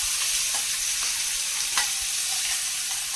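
Corn paste stirred into a spiced pan of upma over a low gas flame: a continuous soft sizzle with faint scraping strokes of the spoon, close and steady, without any voices.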